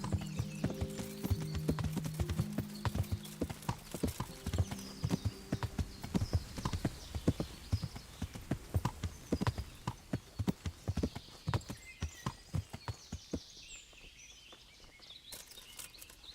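Horse hooves clip-clop steadily in the medieval video game Kingdom Come: Deliverance, a close, rhythmic trot that fades slightly toward the end, with a low tonal hum early on and no talking.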